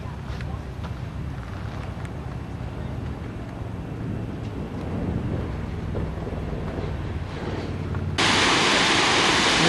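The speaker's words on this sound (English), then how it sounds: "Nice falls." A waterfall at Yellowstone roars as a steady broadband rush beneath low wind buffeting on the microphone, growing suddenly louder and brighter near the end.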